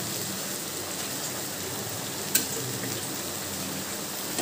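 Pieces of raw papaya go into a spice paste frying in oil, producing a steady hissing sizzle throughout, close and even, with one sharp tap partway.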